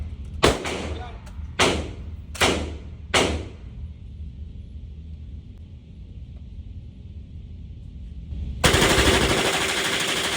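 Four sharp gunshots from a Century Arms AP5, an MP5-style firearm, fired at an outdoor range about a second apart, each with a short echo, followed by a loud burst of wind-like rushing noise.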